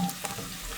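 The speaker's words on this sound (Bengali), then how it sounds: "পেঁয়াজটা হালকা করে একটু ভাজা দিয়ে নিই আগে" Chopped onions sizzling lightly in a pan, a brief, steady, soft frying hiss with a faint stir.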